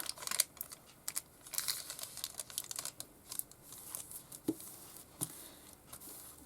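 Paper folded by hand while making a shabby ephemera holder, heard as close, quiet crinkling and soft creasing taps in irregular bursts, with no talk.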